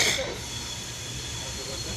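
A train pulls out of the station with a steady, fairly loud hiss and low rumble that stays constant after a brief louder burst at the start.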